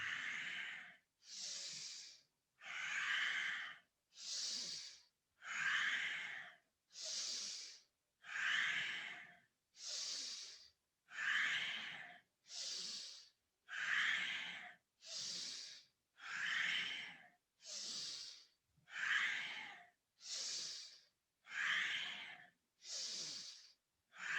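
Rhythmic breathing during a Kundalini yoga exercise for the back: close, slow, even breaths, about twenty strong airy huffs in a steady alternating pattern with short pauses between them, with no talking.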